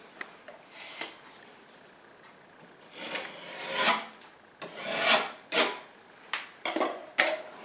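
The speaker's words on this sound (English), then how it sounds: "then you take your flat trowel like this and you just rub it off" A flat trowel scrapes excess spackle off a wall, giving a series of raspy rubbing strokes that swell and fade, some longer and some short, close by and with no talk.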